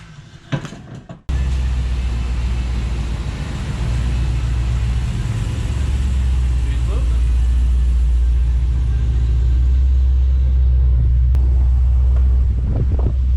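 A Cadillac CTS-V driving, with a loud, steady, deep engine rumble and road drone that starts abruptly after a short clattering noise and holds close and constant throughout.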